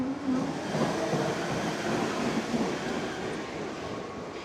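Subway train rumbling steadily at a New York station, a broad continuous roar of wheels and motors close by, with no voices over it.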